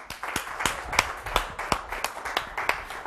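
A small audience claps for a performer being introduced on a local Italian TV talent show, sharp irregular hand claps close by, sparse and uneven rather than a full roar, with no voices over them.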